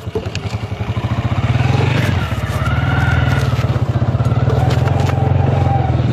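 A motorcycle rides along a canal road, its engine thumping in a steady, rapid rhythm close by. Rattling and scraping come from the bike throughout, with no talking.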